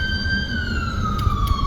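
An ambulance siren wails steadily near a bus stop, its tone sliding slowly downward over rumbling street noise, fairly loud and close.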